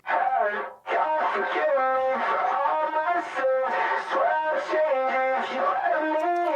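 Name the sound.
Echo Boy plugin Garage Door preset on vocals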